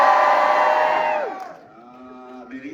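A film premiere audience yells and screams loudly together on cue, a dense crowd roar that fades after a second or so, followed by scattered cheers and whoops.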